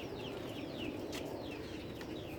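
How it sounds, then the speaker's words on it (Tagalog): Rhode Island Red and Brahma chickens cluck and chirp steadily among farmyard bird noise, with a constant low background rumble throughout. "Ito, ating mga manok."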